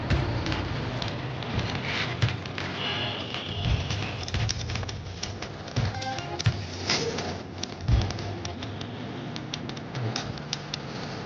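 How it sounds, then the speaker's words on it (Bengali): Vegetables cooked UP-style sizzle in a pan after water and meat masala are added, giving a steady loud crackling and spitting hiss with scattered sharper pops throughout. "এদিকে সবজিটা ভালোই ফ্রাই হয়ে গেছে"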